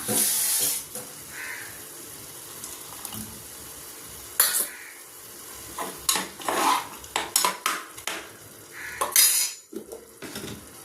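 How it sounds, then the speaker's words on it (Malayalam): Water splashes into a pan of pachadi with crushed roasted chana dal. Clinks of utensils and stirring come up close in short bursts, with no talk. "ഒരു ശകലം വെള്ളം കൂടെ നമുക്ക് ഒഴിച്ചു കൊടുക്കാം."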